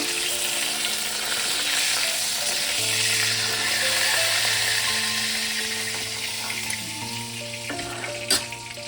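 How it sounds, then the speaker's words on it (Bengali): Tilapia fish frying in hot oil, a loud, steady, close sizzle that holds without pause, ending with a single sharp clink. "আমি ভেজে নেবো ভালো করে মাছগুলো"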